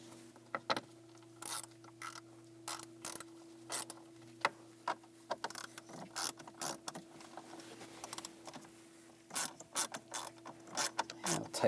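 Screws being driven into a heater core housing on a 2010-2017 Chevrolet Equinox, heard as a run of quiet ratcheting clicks in short irregular bursts over a steady low hum, close by with no talking.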